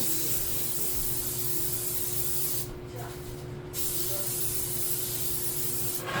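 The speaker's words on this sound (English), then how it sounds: "I'm going to take this, this cooking spray, and I'm going to spray the pan." Continuous hiss of an aerosol cooking spray sprayed onto a pan for several seconds, pausing briefly, over a low background hum.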